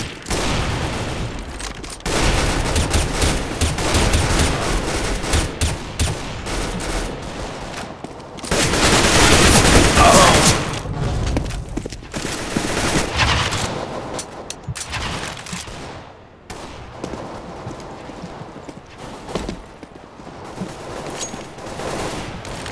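Dense, continuous gunfire from Counter-Strike: Global Offensive gameplay, rapid automatic bursts running almost the whole time with a louder stretch in the middle and brief lulls near the end.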